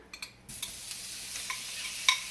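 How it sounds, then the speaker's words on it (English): Prawns stir-frying in hot oil in a pan: a steady close sizzle with a few light scrapes and clicks of stirring, heard alone. "we'll just stir fry this prawns"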